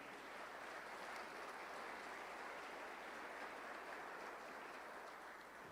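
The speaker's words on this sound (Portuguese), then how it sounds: "Pode aplaudir." A church congregation applauds, a dense continuous wash of many hands clapping that holds steady and sounds faint and distant throughout.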